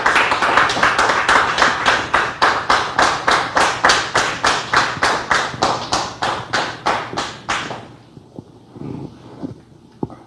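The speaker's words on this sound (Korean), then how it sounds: "박수로 맞아주시기 바랍니다." A small audience at a Korean YouTube association talk event claps to welcome a speaker, steady rhythmic clapping that sounds like a few hands in unison, loud and close, then stops abruptly and leaves a quiet room with faint stray noises.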